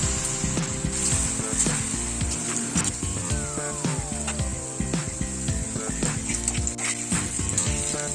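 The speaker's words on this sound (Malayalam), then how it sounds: "വെളിച്ചെണ്ണ തിളച്ചിട്ടുണ്ട്. അത് ചെറിയ തീയിൽ നമുക്ക് പൊള്ളിച്ചെടുക്കാവുന്നതാണ്." Potatoes frying in hot coconut oil over a low flame give a steady, dense sizzle with crackling pops throughout, close and continuous with no talk.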